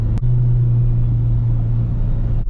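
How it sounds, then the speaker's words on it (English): Acura RSX Type-S with a failing power steering pump, a loud steady low whine holding over engine rumble while accelerating, continuous from near the car. "I got the whine that you hear when I'm accelerating"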